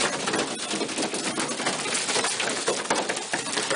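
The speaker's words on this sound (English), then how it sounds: "Lots of pigeons." Pigeons in a loft holding around eighteen or nineteen birds, a dense continuous chorus of cooing and calls close by with no pauses.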